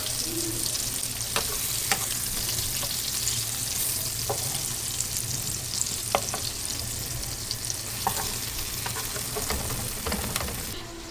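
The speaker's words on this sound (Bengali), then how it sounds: "তো বেগুন ভাজি করছি নন স্টিকের কড়াইয়ের মধ্যে" Eggplant slices fry in oil in a non-stick wok with a loud, continuous sizzle, broken by occasional sharp clicks of a spatula stirring against the pan.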